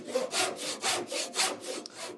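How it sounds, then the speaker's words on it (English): A hand saw cuts a wood joint in rapid back-and-forth strokes, about seven rasping pulls in quick rhythm. The sound is close, fairly quiet and not covered by any talk. "I've got the saw a bit more shallow, and I'm working down my long end"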